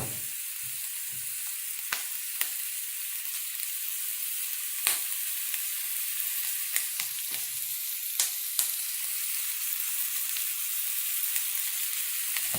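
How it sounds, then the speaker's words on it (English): Steady sizzle of ingredients browning in a hot pan for an adzuki bean and lentil casserole, seasoned with salt and pepper, with occasional clicks and scrapes of a wooden spoon stirring. "And brown that off for 3-4 minutes"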